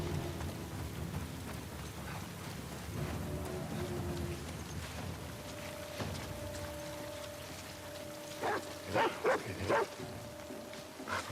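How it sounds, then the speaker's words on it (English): A dog in a video game barks several times in a quick cluster near the end, sharp and fairly close, over a background of rain, thunder and a steady game tone. "It's a dog."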